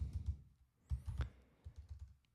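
Someone types code on a computer keyboard, with quiet clusters of soft key clicks in short bursts and brief pauses between them.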